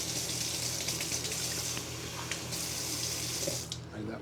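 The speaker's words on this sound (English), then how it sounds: "Warm water." Warm water runs steadily from a kitchen tap into a sink, a continuous close hiss and splash lasting throughout with no speech, a low steady hum beneath, tapering slightly at the end.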